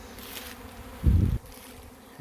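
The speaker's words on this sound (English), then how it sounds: "The bees are pretty active on it." Honeybees from about 25 colonies buzz around a community feeder of 1-to-1 sugar syrup outdoors, a steady hum with a close, loud buzz as one bee passes near for a moment.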